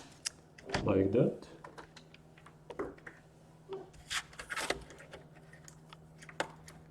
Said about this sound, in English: Now we're just gonna attach the keyboard.